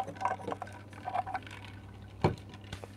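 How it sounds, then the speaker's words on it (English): A person takes a quick sip of water, a brief soft slurp and liquid sound over a steady low background hum. "Just gonna have a little sip of water, gotta stay hydrated."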